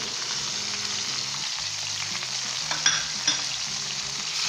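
Potatoes, cauliflower, tomatoes and spices for aloo gobhi salan fry in a pan with a soft, steady sizzle, broken by a couple of light stirring clinks close by.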